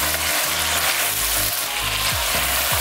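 Shredded pork stir-frying in a pan with sauce, sizzling loudly and continuously while being mixed, with scraping stirring strokes.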